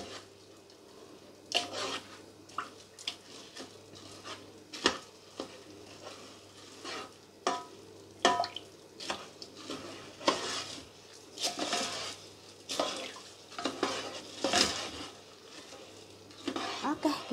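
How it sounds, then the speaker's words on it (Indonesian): Rice with turmeric is stirred in a pot, giving repeated scraping and clinking strokes of a spoon against metal in an irregular rhythm, close and fairly clear. "Nah, ini kita aduk-aduk, aduk rata ya, biar tercampur."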